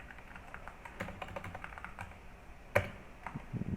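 Keys clatter on a computer keyboard in short, uneven bursts of typing, close and fairly quiet, with one sharper louder keystroke partway through and no talking.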